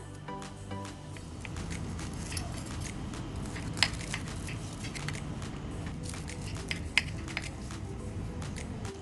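A knife cuts through a crisp bread omelette, giving scattered crunchy cracks and soft squishes over a quiet steady background.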